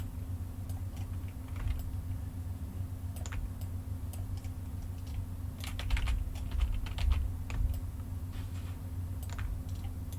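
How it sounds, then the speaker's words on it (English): Computer keyboard keys pressed in a quick, irregular series of light clicks while a character rig is posed in animation software, close and fairly quiet over a steady low hum, with no talking. "I'm just using the bracket keys."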